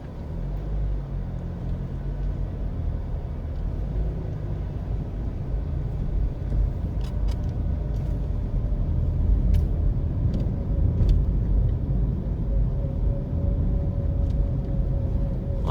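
A car rolls steadily through a hillside residential neighborhood of mansions in Queenhill, Kingston, Jamaica, with a constant low road rumble from inside, occasional faint clicks and no talking.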